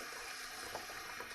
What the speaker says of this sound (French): Et on les dépose délicatement dans l'eau froide.